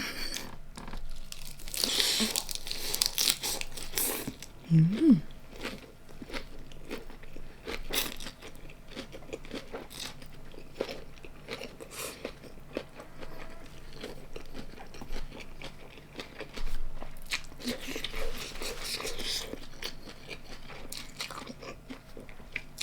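Wet crunching and chewing of fresh raw beef eaten with papaya salad, steady close-up bites and mastication with occasional louder crunchy bursts, no talking.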